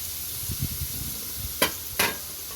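Chopped onion and green chillies sauté in a pan, giving a soft steady sizzle with a few stirring scrapes and two sharp clacks near the end, close and unaccompanied by talk.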